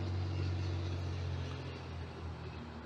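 Steady low road traffic rumble from Gillatley Road below a large suburban backyard in West Kelowna, a continuous moderate wash of passing vehicles with no voices.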